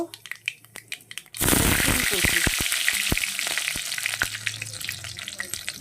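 Nigella seeds hit hot oil for tempering fenugreek greens, triggering a sudden loud sizzling burst after a quiet start, then a sustained close crackle with sharp pops that slowly eases.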